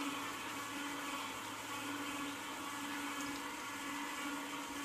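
A Juico Uno juicer grinds apples, giving off a steady, even motor hum with a low mechanical drone that runs unbroken and quite faint with no talking.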